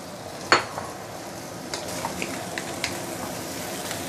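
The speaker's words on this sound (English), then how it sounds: "So this is after a minute or two sauteing." Ingredients for a spicy sour mustard green stew sauté in a pan, giving a low steady sizzle. A sharp utensil clink comes early, followed by a few lighter scrapes and taps as the food is stirred.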